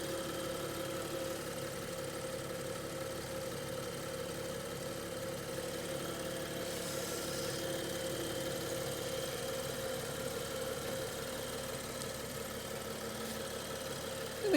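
BMW TwinPower Turbo engine idling with the hood open at a public auto auction, a quiet, steady, even hum with faint vibration throughout, no talking.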